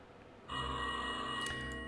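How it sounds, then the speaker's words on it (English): A telephone bell rings in the Rusty Lake Hotel game, starting abruptly as a loud, sustained electronic trill over low ominous background music, with no talk. "Got a phone call, better get that."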